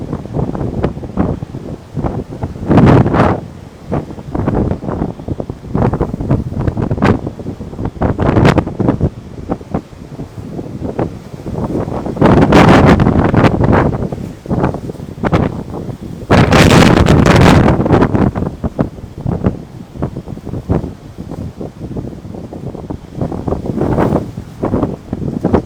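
Hurricane Helene at Fort Myers Beach, Florida: loud buffeting wind roaring across the microphone in repeated gusts, with surging storm noise underneath and rushing water, sustained and close for the whole stretch.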